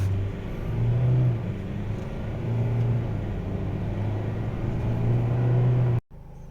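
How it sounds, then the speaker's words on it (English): 2021 Ford Ranger 2.0 XLT+ SE pulling away from a standing start in normal drive mode, a steady engine drone heard from inside the cab rising and holding through gear changes, then cutting off abruptly. "Okay, so here's a quick standing start."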